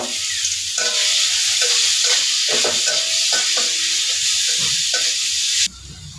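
Water spinach greens fry in hot oil in a pan, giving a loud, continuous sizzle with stirring scrapes throughout, cutting off sharply near the end.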